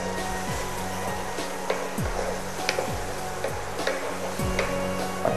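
Masoor dal roasting with spices in a pan gives a steady sizzle, while a spoon scrapes through it in repeated strokes, close and alone without talk.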